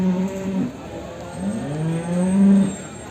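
A two-year-old Jafarabadi buffalo calf at a buffalo market moos twice, drawn-out low bellows close by with a short pause between them, and faint background noise.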